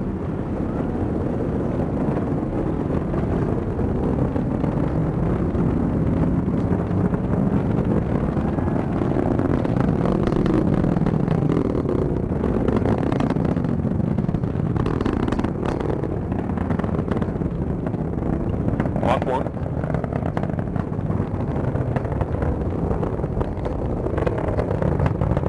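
A rocket booster roars steadily during a NASA launch of a next-generation communication satellite, a dense, continuous rumbling blast with no pauses, heard from a distance without voices over it.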